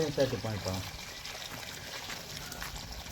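Water gushes from a hose onto a freshly planted sapling during outdoor tree planting, a steady broadband rush that continues after a short burst of voices at the start.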